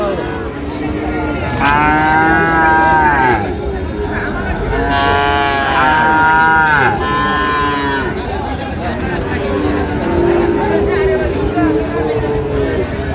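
Several Friesian and crossbreed bull calves moo loudly at a cattle market, overlapping calls rising and falling amid a busy crowd of voices chattering around them.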